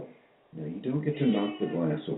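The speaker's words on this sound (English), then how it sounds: "That's my cat." A pet cat meows and cries in a drawn-out way close to the microphone, overlapping a woman's speech.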